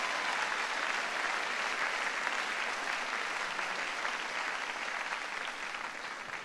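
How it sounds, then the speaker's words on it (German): A church congregation claps together in a steady, even roll of applause, fairly distant and unbroken, slowly tapering slightly at the close. "Komm, wir sollten Jesus mal einen Dankesapplaus geben."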